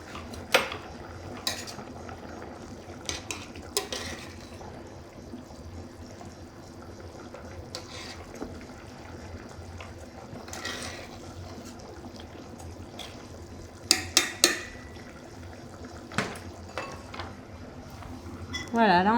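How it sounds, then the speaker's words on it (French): Asparagus and broad beans stirred together in a pan, light scraping and clinking of a utensil against cookware with occasional sharper clinks, fairly quiet, while people talk in French. "Du coup, pas d'inconvénient si je mélange les asperges et les fèves."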